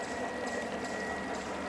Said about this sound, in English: And we've got the water coming down there.